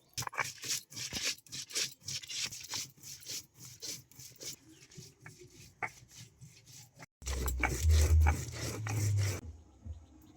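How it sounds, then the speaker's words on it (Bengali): Dried red chillies and whole cumin are ground by hand with a little water on a stone, giving rhythmic scraping and rubbing strokes, close and steady, ending in a louder grinding burst. "এবার আমি অল্প জল দিয়ে মশলাটা মেটে নেব খুব ভালো করে"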